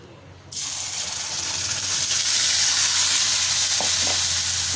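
Four tomatoes blended to a puree hit a hot tempering in the pan: a sudden loud sizzle bursts in and holds as a strong, steady frying hiss, with a few faint utensil clinks near the end.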